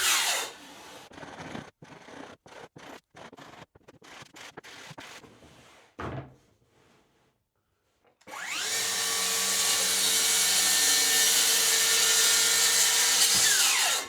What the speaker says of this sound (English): I'm just going to cut those to length using my crosscut jig at the end of my table saw.